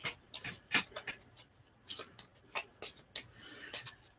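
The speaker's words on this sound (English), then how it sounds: "All right, so you give that a good shuffle." Deck of game cards being shuffled for a tabletop board game, a series of quiet, quick papery riffles and taps in an irregular rhythm, close by with no talk.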